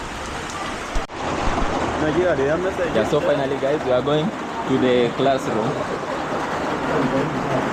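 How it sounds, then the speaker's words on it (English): Rain falls steadily in a village school yard, a dense hiss of drops on surfaces that runs beneath someone talking close by. "Only that it's raining."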